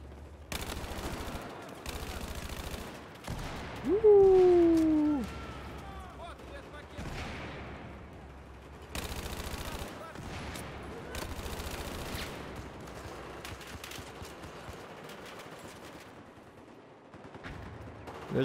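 Carbine fire in a video game, with short bursts and rapid shots spread across the span and one louder burst near the start, under intermittent talk from a player.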